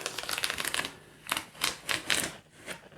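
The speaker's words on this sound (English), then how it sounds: "So I'm just going to get all this tape off" Tape is peeled in quick bursts from a Rickenbacker 620/12 guitar with a polished nitro finish, giving close, crackling rips separated by brief quiet gaps.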